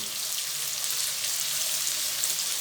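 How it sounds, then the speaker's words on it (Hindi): Finely chopped onions frying in hot oil in a kadai, a steady, close, unbroken hiss and crackle of sizzling with no pauses or talk. "कढ़ाई में ऑयल हमारा अच्छे से गर्म हो गया है और अब हम इसमें डालेंगे बारीक कटे हुए प्याज"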